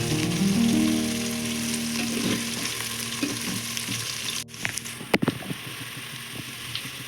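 Chicken pulao ingredients fry steadily in hot oil, a continuous close sizzle with stirring scrapes and a few sharper clatters near the end; no talking.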